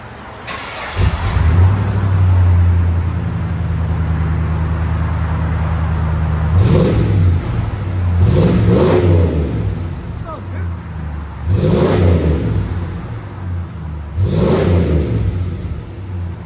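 A 1993 Ford F-150 single-cab pickup with a 5.0L V8 and Magnaflow exhaust starts and settles into a loud, close idle, then gives four sharp revs spaced a few seconds apart, each rising and dropping back.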